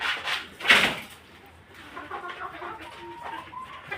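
A rooster kept with pigeons gives a loud, close squawk early on, followed by softer intermittent clucks and bird calls in a quiet coop, with no talk.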